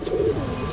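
Pigeons coo in a low, continuous murmur at a pigeon farm in Dhaka Cantonment, a steady close chorus of soft throaty calls.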